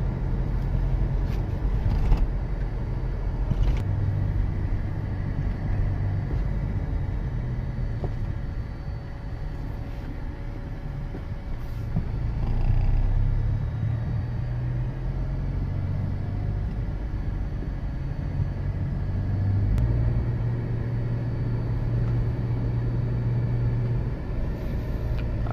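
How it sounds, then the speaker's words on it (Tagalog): Road traffic during the pandemic, a continuous low rumble of car and bus engines with occasional swells and faint clicks, steady and moderately loud throughout. "Traffic siya, traffic."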